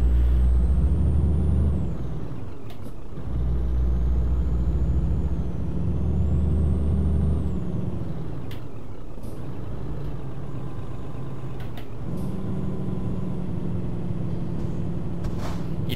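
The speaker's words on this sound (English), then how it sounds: "It's called a retarder." A lorry's retarder in a truck-driving video game gives a faint, steady whine over a loud, low engine rumble. Brief hissing air-brake bursts break in now and then, and no voices are heard.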